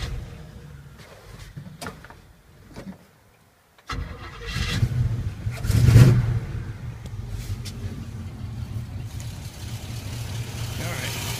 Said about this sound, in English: Alright, that's the engine running. It's fairly quiet.